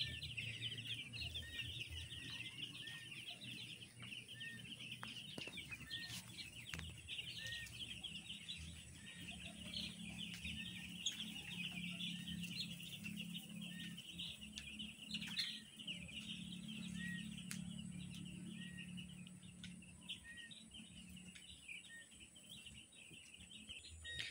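Baby chickens about ten days old, huddled together in a pen, cheep steadily in a continuous high twittering chorus, with a low hum running underneath throughout.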